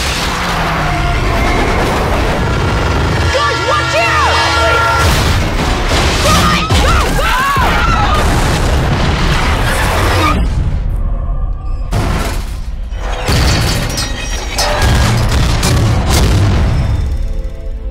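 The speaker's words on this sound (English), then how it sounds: "An eastbound freighter derailed." A derailing eastbound freight train in a movie trailer: loud booming crashes, bursts and grinding metallic impacts pile up, then break apart into separate heavy blasts with short silent gaps between them.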